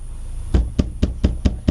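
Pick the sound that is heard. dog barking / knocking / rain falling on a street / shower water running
knocking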